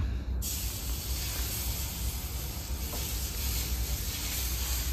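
Batter for a dosa sizzles and hisses on a hot pan, a steady close frying crackle that starts with a sudden burst and carries on evenly.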